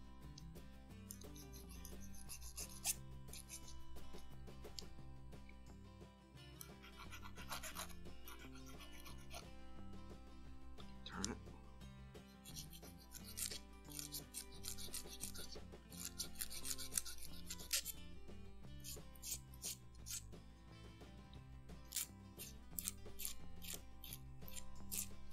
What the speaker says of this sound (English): File each one just a little bit,